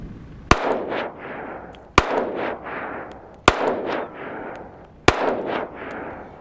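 Four sharp, loud pistol shots from a Smith & Wesson M&P 5.7 fired outdoors at a target 75 to 100 yards away. They come at roughly 1.5-second intervals, and each crack is followed by a rolling echo.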